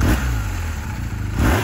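A 2022 BMW R1250R SE motorcycle engine rises in a throaty rev as the throttle is blipped, dips back to a rumbling idle, then revs again at the end, loud and close.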